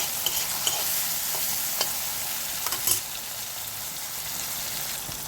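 Potatoes frying in a pan, close steady sizzling with sharp clicks of stirring, a few louder scrapes near the middle.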